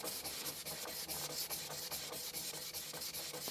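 Knife blade sharpened with light pressure on a vitrified 1000 grit diamond stone, giving a steady close rasping scrape in quick repeated strokes, continuous and alone.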